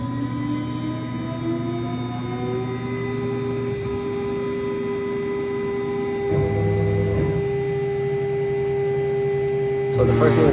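A Laguna Swift CNC router running a G-code pocketing program, a steady electrical whine and hum of spindle and stepper motors with tones that shift as the axes move, under faint background noise.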